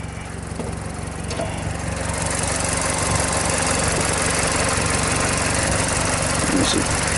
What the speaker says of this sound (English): come rev the car up a few times?